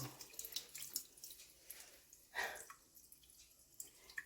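Water splashes and trickles from a tap or container while a thirsty potted plant is watered, with close, irregular drips and gurgles and no talking.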